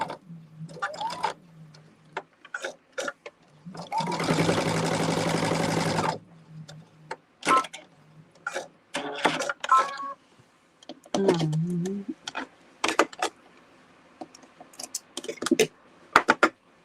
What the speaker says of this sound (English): now let's get these things sewn together